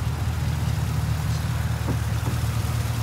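Stock 2015 Chevrolet Camaro SS V8 engine heard from under the open hood, a steady deep rumbling drone at close range, loud and continuous, with no voices.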